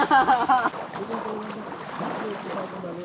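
A small boat with two engines idles and churns on the water at sea, a low steady mechanical drone with splashing, while someone talks briefly at the start.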